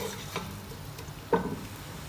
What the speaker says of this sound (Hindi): और अब हम इसे गोल्डन ब्राउन करेंगे।